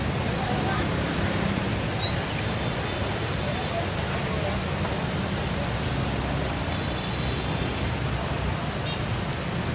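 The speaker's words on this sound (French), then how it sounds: "Oh la grosse averse" Heavy rain pours down in a dense, steady roar close by, continuous and loud with no letup throughout.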